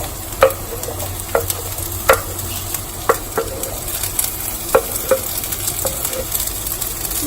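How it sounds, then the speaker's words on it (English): Potatoes, beans and carrots being stirred together with onions in a frying pan: a steady sizzle under regular scraping knocks of the spoon against the pan, close by, with no talking. "Now mix it all together with the onions, potatoes, carrots and beans."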